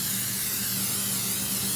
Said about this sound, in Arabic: راح أبخ الوش بالزيت